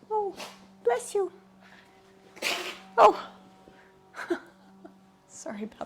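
A cat sneezes a few times during a quiet yoga stretching session, short sharp bursts with small squeaky vocal sounds around them, while someone speaks briefly.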